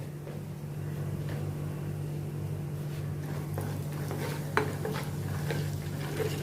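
Gram flour (besan) with cumin roasts in a pan over a low flame, with soft, intermittent scraping and stirring against the metal over a steady low hum.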